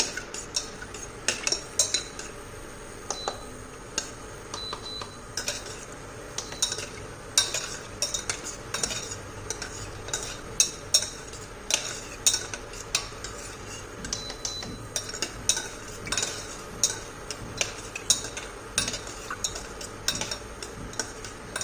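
Nuts and raisins (almonds, cashews, raisins) being fried in a pan for a sweet broken-wheat dalia with jaggery, heard as steady light sizzling broken by frequent small clicks and scrapes of a spoon against the pan, fairly close.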